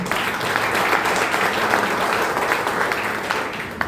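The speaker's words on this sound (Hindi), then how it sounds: "तब तक की सबसे जबरदस्त तालियां आप सभी लोगों के लिए।" Audience applause at a health and wealth awareness program, a dense, even burst of many hands clapping at close range, continuous for the whole stretch without speech.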